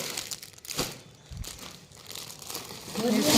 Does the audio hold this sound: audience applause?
no